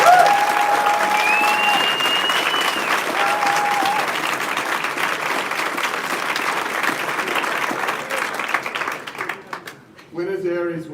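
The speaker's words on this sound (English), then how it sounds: "We also have a special applause for the University of Sydney." Audience applause for the University of Sydney at a moot court competition rings out as a dense, steady clatter of many hands that thins toward the end, giving way to a voice speaking over the fading claps.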